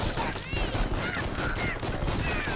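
Dual guns firing in the PC game AK-xolotl, a steady stream of rapid shots mixed with busy game effects and whistling tones, fairly loud throughout.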